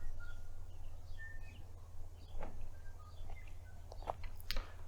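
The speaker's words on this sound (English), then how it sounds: "that bird in the background is a tui, a native New Zealand bird, and it's just beautiful" A tui, a native New Zealand bird, sings in the background, giving faint scattered chirps and whistles over a steady low outdoor rumble, with a few sharper calls near the end.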